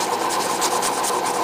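An old toothbrush rubs and scrubs dust out of a hair dryer being repaired, producing a close, continuous bristly rasping with faint rhythmic strokes and no talk.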